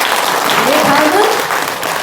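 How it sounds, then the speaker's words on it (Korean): Audience at a book launch marking Korea–US relations claps for a plaque presentation, a loud dense burst of applause lasting a couple of seconds, with voices mixed in. "뜨거운 박수로 부탁드리겠습니다"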